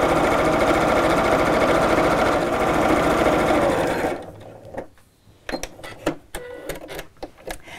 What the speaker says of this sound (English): let's just fold over as we go and sew all the way around the top.